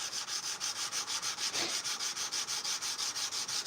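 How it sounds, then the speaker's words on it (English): Sandpaper rubbed by hand along a knife blade with light pressure, a steady run of close, even scraping strokes repeating in a regular rhythm with no voices. "just letting the sandpaper do its work."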